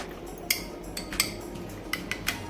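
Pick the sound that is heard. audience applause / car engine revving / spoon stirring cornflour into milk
spoon stirring cornflour into milk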